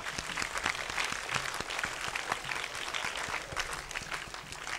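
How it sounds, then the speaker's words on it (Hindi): Children and onlookers applaud after a child's song performed on stage, producing a steady, fairly dense patter of clapping at moderate, slightly distant level. "जोरदार तालियां"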